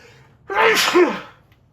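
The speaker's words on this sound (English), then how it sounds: "Sneeze." A single loud, close sneeze bursts out about half a second in and fades within a second, with no talk around it.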